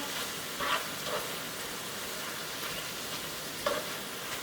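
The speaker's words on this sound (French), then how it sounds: "on va faire cuire ceci jusqu'à ce que les oignons deviennent bien tendres et tout" Sliced onions with lime cook gently in a pan for an onion sauce, giving a quiet, steady sizzle broken by a few soft stirring scrapes.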